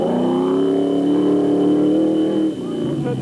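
A rally Jeep with a 5.9-litre Mopar V8 at the Baberspan 500 gives a loud, sustained growl that holds steady and close, then drops in pitch and eases off near the end.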